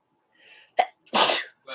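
A single sneeze heard close and loud, opening with a quick sharp intake and ending in a forceful burst, followed by a short trailing breath.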